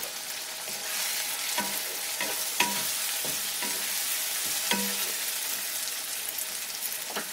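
Chopped tomato and ginger-garlic paste sizzling in a pan for a chicken curry, with repeated scraping stirs of a spatula over a steady close frying hiss, no talk.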